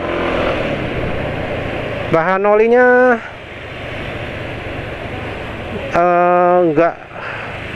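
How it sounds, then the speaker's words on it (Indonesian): A motorcycle engine running slightly rough on Total 4T 300 JASO oil keeps up a steady, close idle throughout, while someone speaks twice briefly over it. "sekarang jadi terasa suara mesin agak kasar dikit ya"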